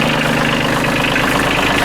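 A Kioti CK27 compact tractor engine idles close by with a loud, steady diesel chug and vibration. The rhythm stays even and unbroken for the whole short stretch.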